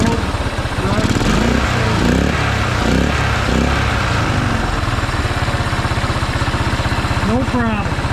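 A 1974 Honda XL250 motorcycle engine idles steadily with its carburetor mixture screw taken out, a close, even single-cylinder putter running the whole time while someone speaks over it.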